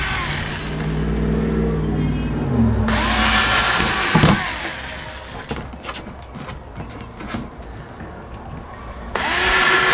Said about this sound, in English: We're gonna go ahead and drill.